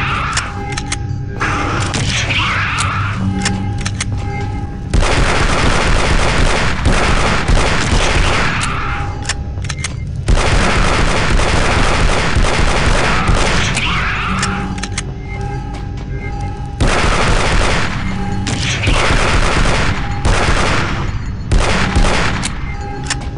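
Armor-piercing pistol rounds fired in Aliens versus Predator 2: Primal Hunt, loud repeated gunfire bursts over a dense, constant roar of game noise, with near-continuous shooting in several long volleys.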